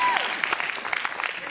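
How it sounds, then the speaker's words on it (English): An award-ceremony audience at the Bel Air Film Festival applauding for Bette Midler, a short burst of clapping from a crowd with a voice speaking over it. "you can applaud for Bette Midler"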